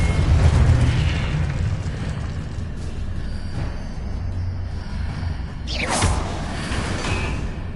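Confringo, an explosive spell in the video game Hogwarts Legacy, goes off with rumbling blasts and a sharp whooshing burst near the end, over a busy bed of game ambience without talk.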